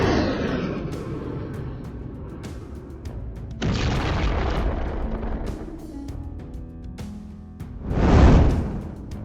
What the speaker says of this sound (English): the rocket system delivered another strike